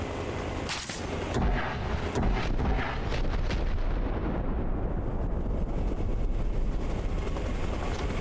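Gunfire and heavy booming shots in the modded shooter Gogland, several sharp cracks early on, then a dense continuous rumble of distant firing and blasts.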